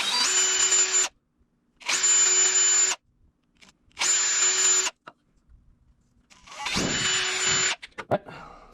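A power drill bores holes into a wooden fishing lure turned on a lathe, making holes for treble hooks and the line; four loud bursts of about a second each, separated by short pauses, with some handling noise after.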